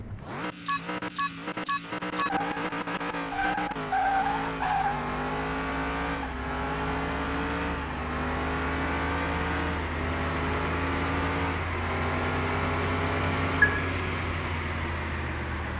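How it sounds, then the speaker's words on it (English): Car with a Dodge engine in a General Motors body making a quarter-mile drag run in Car Mechanic Simulator 2021: loud revving at launch, then the engine climbs through repeated gear changes in a rising, sustained roar, with no talking. "Go ahead and get a quarter-mile run on it."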